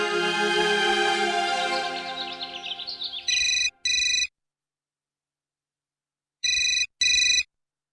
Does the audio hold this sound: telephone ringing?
yes